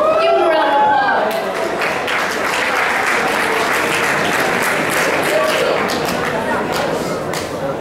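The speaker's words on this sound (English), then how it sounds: "Give him a round of applause." A poetry slam audience bursts into dense, sustained applause and cheering right after a brief spoken introduction. The clapping stays loud and even to the end.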